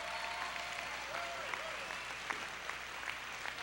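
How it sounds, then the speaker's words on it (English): Audience applause at the 1997 Austin Music Awards show, a steady dense clapping from a large crowd that holds at a moderate, slightly distant level throughout, with faint voices mixed in. "Let's give them a big round of applause because they work real hard."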